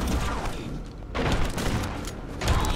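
Shotgun blasts and heavy impacts in the Mutant Year Zero video game, loud booming shots with mechanical clatter, dense and continuous with no talk.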